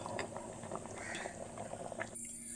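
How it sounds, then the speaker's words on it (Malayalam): A pot of mango, drumstick and prawn curry bubbles and simmers, a faint, steady crackle of small bursting bubbles that continues alone for a couple of seconds before a brief shift near the end. "നമ്മുടെ കറി ഇവിടെ നന്നായിട്ട് തിളക്കണുണ്ട്"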